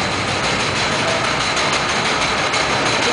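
Grain mill machinery running in a craft brewery's mill room, giving a steady, loud broadband mechanical roar with a low rumble that holds unbroken throughout.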